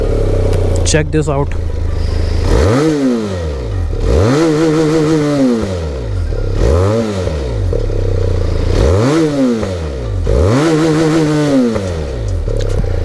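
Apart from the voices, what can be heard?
Benelli TRK 502 inline two-cylinder motorcycle exhaust note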